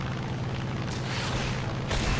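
A deep, sustained boom rumbles from a rocket striking a float plane in War Thunder, loud and continuous with two brighter bursts of crackle about a second apart.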